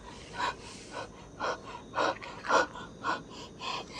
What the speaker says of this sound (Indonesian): Ini ngos-ngosan sudah.